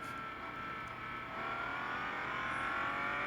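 A race car engine in a racing video game, screaming at a steady high pitch at top speed on the Porsche Test Track Dynamic Circuit, droning continuously and growing slightly louder.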